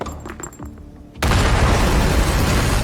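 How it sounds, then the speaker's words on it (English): An explosion blasts open a locked bunker door: after a short stretch of quieter rumbling, a loud sudden boom bursts in and gives way to sustained heavy roaring debris noise, close and dominant. "the explosion had caused structural collapse"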